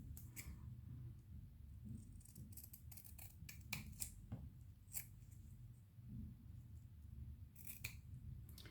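Scissors snip through ribbon and lace scraps in short, crisp cuts, several quick clusters of snipping spaced irregularly over a quiet room, close and fairly soft, with no talking.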